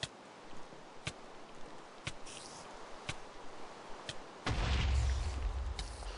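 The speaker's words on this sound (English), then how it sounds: "test out this plasma gun on that spider here" A plasma gun in modded Minecraft Tekkit fires in sharp, evenly spaced blasts roughly once a second, with a heavier burst near the end, over a low quiet background.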